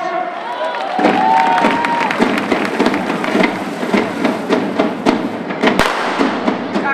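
Firecrackers set off by Catalan ball de diables devil dancers crackle and pop in rapid bursts close by, with a loud crowd cheering and shouting throughout.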